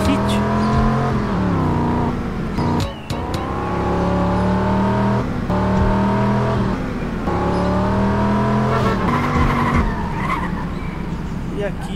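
A car driven in the video game GTA: a steady, loud engine drone that rises and falls in pitch as it revs, with brief tire-skid bursts.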